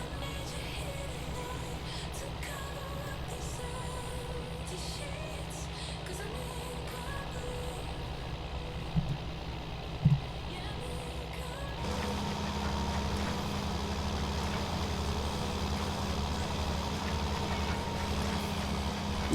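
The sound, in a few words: tractor engine in video game Farming Simulator 19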